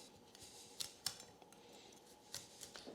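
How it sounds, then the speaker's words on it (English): Broccoli being cut into florets for a sheet pan dinner: a few sharp, quiet snips and knife clicks spaced irregularly over a soft, hissy background, no voices. "And for the veggies, I have broccoli, which I'm going to cut into florets."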